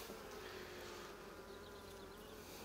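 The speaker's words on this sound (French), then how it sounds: "Les abeilles sont calmes." Calm honeybees drone in an opened hive, a steady, quiet, close buzz with no voices over it.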